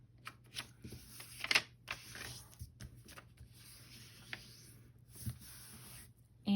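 Paper for a calendar journal is handled and folded close by, giving soft crinkles, rustles and brief creasing swishes at irregular moments, quiet and intimate.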